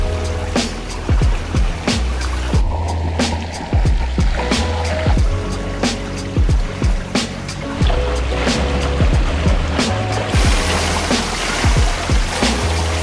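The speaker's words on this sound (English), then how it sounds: "So I'm going to swim some laps." Swimming laps in a pool, with steady rhythmic splashing from repeated arm strokes churning the water at close range throughout, over a constant low background.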